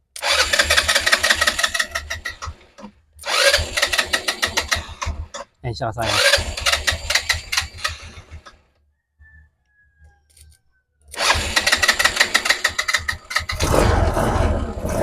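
A Motorstar Easy Ride 125 motorcycle's electric starter cranks in several loud, close bursts of rapid rhythmic churning separated by pauses, with a brief quiet stretch midway and a voice speaking in between.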